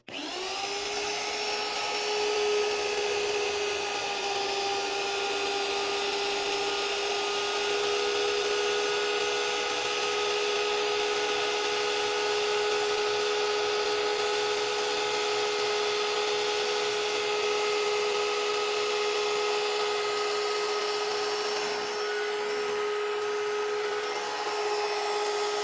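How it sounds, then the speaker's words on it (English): A 1300W magnetic drill press cuts through steel with a steady high-pitched whine and a grinding hum, holding close and loud without a break for the whole stretch. "So we hit a rib because we're drilling"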